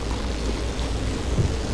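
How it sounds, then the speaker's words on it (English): Stormy weather in the Pacific Drive video game: a steady, loud rush of rain and wind with a low rumble underneath, continuous throughout with no talking. "Storm's coming."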